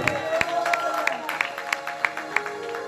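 A church congregation applauding in rhythm, regular sharp claps about three per second over a bed of crowd noise and cheering, fairly close and steady throughout.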